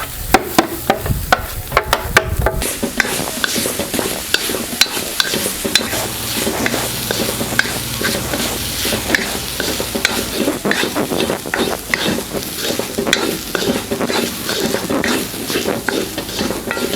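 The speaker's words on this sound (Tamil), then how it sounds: "இந்த நெய்யில் இந்த தேங்காய் சேர்த்து நல்லா வறுத்து எடுத்துக்கலாம்." Grated coconut frying in ghee in a pan for sweet seedai, with a steady crackling sizzle and frequent scraping stirs from a spoon throughout, close and fairly loud with no talking.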